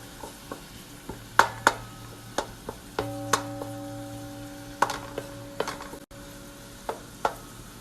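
Diced garlic and onion frying in a pan for a chicken curry, a soft sizzle beneath sharp clicks and knocks of a utensil against the pan, with a brief tonal hum partway through.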